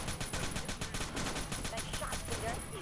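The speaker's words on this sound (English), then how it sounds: "Oh shit, and we're getting shot at." Rapid repeated gunshots from enemies firing at the player crackle in a steady rhythmic stream during a Tom Clancy's Rainbow Six: Shadow Vanguard shootout, fairly quiet and continuous.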